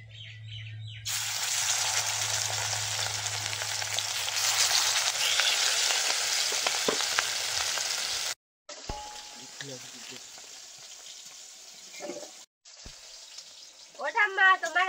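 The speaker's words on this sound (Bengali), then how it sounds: "এবার মাছ ভেজে নেব।" Fish frying in a pan at home, a loud, dense sizzle that begins after a second and runs on, then breaks off into quieter kitchen sounds with a voice briefly talking at the end.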